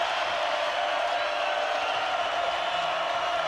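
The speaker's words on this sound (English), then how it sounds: "Here comes the crowd" A basketball arena crowd at a Stanford versus Oregon State game roars in a steady, continuous wash of cheering, even and sustained with no clear individual voices standing out.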